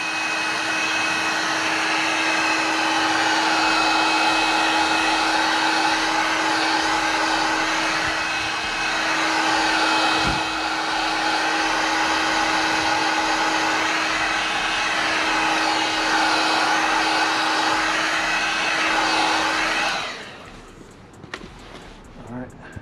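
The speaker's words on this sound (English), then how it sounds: "I'm gonna use my heat gun because it'll make the rubber a little softer" A heat gun blows hot air onto the rubber sidewall of a Jeep SRT tire as stickers are applied. A loud, constant whirring drone with a steady tonal hum runs for about twenty seconds, then cuts off, leaving faint handling noises.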